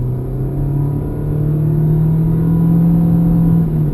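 A 2013 Nissan Sentra SL with a 1.8 liter engine and CVT accelerates at full throttle, giving a steady, droning engine note that holds a near-constant pitch and slowly swells in loudness, heard from inside the car.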